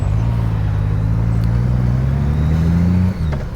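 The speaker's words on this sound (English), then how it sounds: "Hear that Jake brake behind me?" A semi truck's Jake brake sounds behind the speaker as a loud, close, low droning engine rumble. It holds steady, rises slightly in pitch, then cuts off abruptly after about three seconds.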